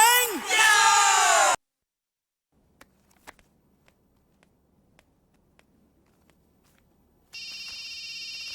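A shrill yelling voice gives way to near silence with small clicks, then an electronic telephone ringtone starts, a steady buzzing trill that continues to the end, as in a comedy scene from a Telugu film.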